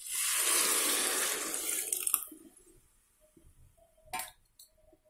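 Water pours into a cooking pot for coconut milk pulao, a loud rushing splash for about two seconds, then a clink and a few quiet kitchen knocks.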